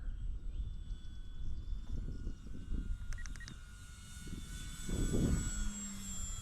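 A 3D-printed RC scale model of a PZL.50 Jastrząb aircraft flies slowly on its maiden flight, its steady engine drone and high propeller whine lingering at mid distance and swelling louder near the end.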